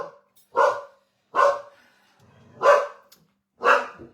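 A dog barking four times in a room, each bark loud, close and separated by short pauses, with no talk over it.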